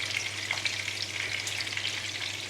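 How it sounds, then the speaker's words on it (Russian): Orange sauce for duck breast bubbling and sizzling in a pan, a steady, dense crackle held close and continuous with no voices. "Смотрите, вот так хорошо закипел соус."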